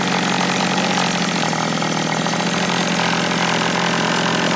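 The engine of a 1934 Ford coupe idles steadily and loudly, a continuous, even rumble with no talk and no change in pace.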